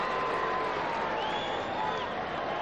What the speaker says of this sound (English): their fans are starting to cheer, urge them on